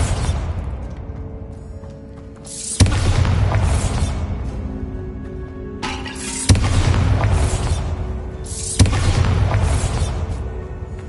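Bombarda spell explosions in the Hogwarts Legacy video game: three loud, booming blasts, each a sharp broadband crack that swells into a long rumbling roar, arriving a few seconds apart with no talking.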